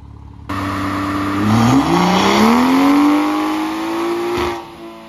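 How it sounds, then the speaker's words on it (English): BMW F30 340i with a Stage 2+ tuned B58 engine on a dyno, engine revving hard and loud, pitch climbing then dropping briefly as the car downshifts into third, then pulling steadily again before cutting off, no talk. "and if you guys heard, the car downshifted into third."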